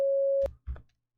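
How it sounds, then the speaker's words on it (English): A single steady electronic Morse code tone holds for under half a second, clean and loud, then gives way to low thumping noises. "Morse code is an audio language."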